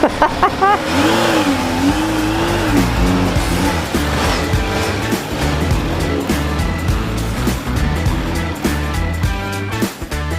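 A motorcycle engine that has just been started revs up and settles, loud and close, with rising and falling roars and a throaty mechanical rumble throughout.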